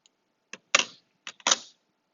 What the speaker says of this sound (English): I'm going to type that in my calculator